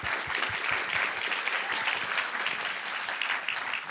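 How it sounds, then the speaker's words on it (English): An audience at the MIT $100K pitch competition breaks into dense, sustained applause, loud and even throughout with a few cheers mixed into the clapping. "Big round of applause."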